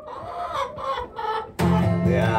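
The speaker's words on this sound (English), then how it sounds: "You feel alright when you hear that chicken sing." Chickens cluck in a coop amid wind and a snowy setting, a few short bursts of clucking followed by a louder, fuller stretch of overlapping hen calls, with no talk.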